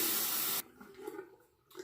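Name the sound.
water running while rinsing after a shave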